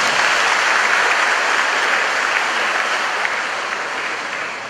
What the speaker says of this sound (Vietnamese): Xin cho một tràng pháo tay thật lớn.